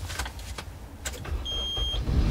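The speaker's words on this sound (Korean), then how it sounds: "아주 부드럽게 시동 잘 걸리고요" A used 2001 Samsung SM520 manual sedan with about 303,700 km starts up: a few quick starter cranks give way to a soft idle, while a short electronic chime rings in the cabin.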